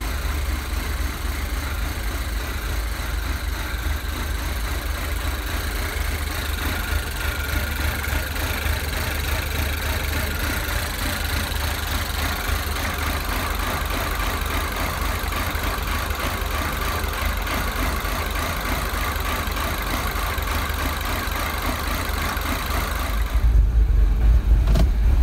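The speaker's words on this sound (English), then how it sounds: "it would have this run, run, run, run, run, this idle" A MINI car engine idles erratically, a steady low chugging rumble heard close up for most of the time before a louder, deeper surge near the end.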